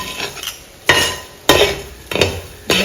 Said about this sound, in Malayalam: ഇതിൻ്റെ ആവണ വരെ നന്നായിട്ട് ഇളക്കി കൊടുക്കണം.